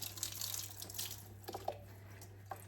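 Cool tap water runs steadily over fine porcelain china with gold trim during hand washing, a continuous close splashing stream with a few brief clinks and water bursts near the end.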